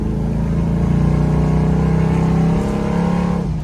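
A 1973 Ford Mustang engine revs hard and holds a loud, steady roar as the car accelerates along the road, with no talk over it, easing off slightly near the end.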